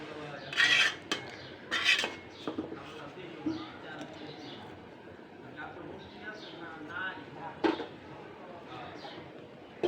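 Cooked biryani is lifted out of a pot, with metal spoon scrapes and clinks against the pan, a few sharp bangs, under ongoing talk, while birds coo faintly in the background.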